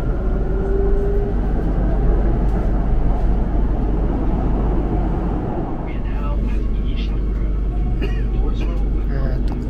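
Steady rumbling hum inside a moving Shanghai Metro car, with low rolling noise and faint squeals and clatter throughout, continuous and close.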